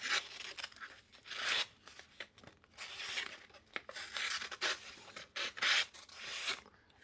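A SOG PowerPint multitool knife blade slicing through a sheet of paper, several close, dry rasping strokes and tearing swishes in bursts with short pauses between, no talk.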